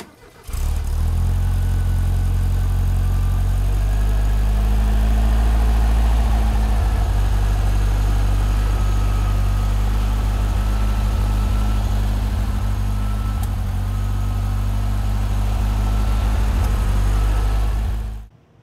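A 1970 Volkswagen Beetle Convertible with a silver paint job starts up and idles steadily, its air-cooled engine giving a loud, close, even throb that holds for the whole stretch before cutting off at the end.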